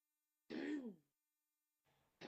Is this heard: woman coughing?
yes